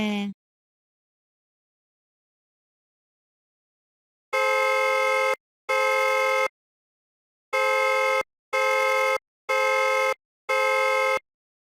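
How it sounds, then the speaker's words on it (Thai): A Chevrolet car horn on a technical college training bench gives six loud, steady blasts of about a second each in an irregular rhythm, alone, after a short silence. "แผ่นไดอะแฟรมจะบิดตัว และเกิดการสั่นอยู่ตลอดเวลาทำให้เกิดเสียงดังขึ้นผ่านออกทางช่องปากแตร"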